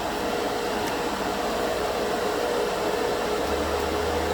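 A small portable air compressor paired with an airbrush runs with a constant, even hiss and hum, loud and close, with no pauses or voices.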